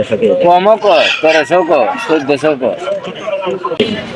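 Native chickens cluck and squawk loudly and close at a poultry market, their calls tumbling over one another in quick bursts with busy market noise.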